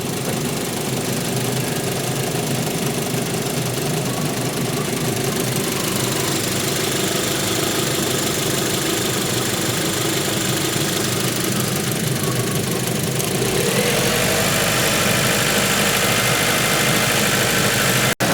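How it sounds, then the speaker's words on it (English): A Rover 75 car engine idles steadily while warming up, a continuous close mechanical hum with a slight shift in tone near the end, no voices. "So the car's warming up."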